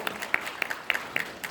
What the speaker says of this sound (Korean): 카라즈의 유정서 실장님을 뜨거운 박수로 환영해 주십시오.